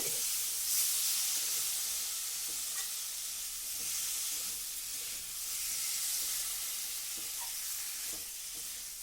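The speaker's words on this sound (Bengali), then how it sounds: "এবার আমি ভেজে রাখা আলুগুলোকে ওর মধ্যে দিয়ে দিলাম, দিয়ে মশলার সাথে আলুগুলোকে একটু কষিয়ে নেব।" Fried potatoes stirred through a spice masala in a pan with a flower-based dish cooking, a soft continuous sizzle and steamy hiss under slow, repeated scraping strokes, fairly quiet.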